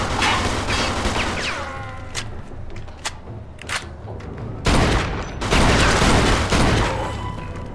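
Gunfire in the Mafia II video game, dense bursts of shots and booming thumps that keep up steadily, loud and close, with brief shouts between the volleys.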